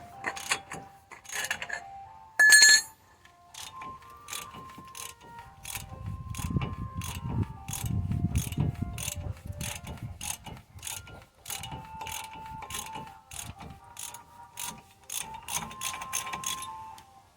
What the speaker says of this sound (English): I'm gonna start removing the nut on the lower ball joint and back it off a little bit.